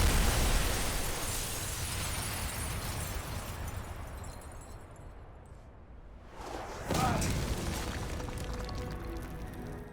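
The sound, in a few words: tactical explosion in video game Prototype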